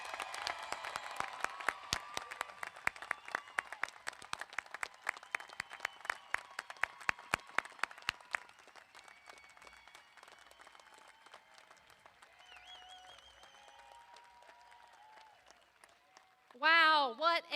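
Commencement crowd at LaGrange's 2021 ceremony for the classes of 2020 and 2021 applauding graduates, dense clapping for about eight seconds that thins to scattered claps, then a voice speaks.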